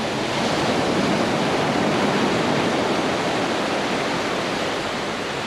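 Choppy sea waves wash continuously onto Weymouth Beach, a steady broadband roar of surf and spray with no voices, loud and close throughout.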